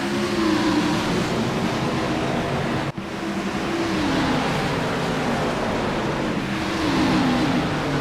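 Several race cars accelerate together at the green flag on the Rockingham oval in iRacing, a dense, steady engine roar with rising tonal pitch sweeps and one brief dropout, loud and continuous throughout.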